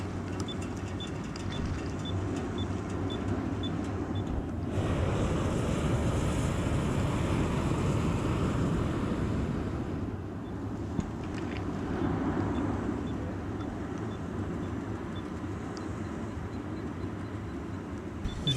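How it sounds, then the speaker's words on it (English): Strong gusts buffet the microphone at a hot air balloon launch site, a steady broadband roar of wind that swells louder around the middle and then eases back to a constant rush. "It got windy as soon as we got there"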